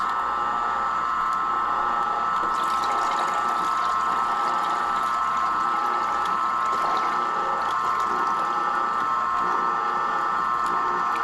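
A juicer presses apple, turmeric and lime with a continuous mechanical grinding whir and a faint liquid trickle, close and steady throughout.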